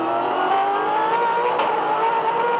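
V8 Supercars race past at the Adelaide 500 street circuit on the run to turn 8, a loud, continuous high-pitched engine roar with a brief sharper pass midway, no voices.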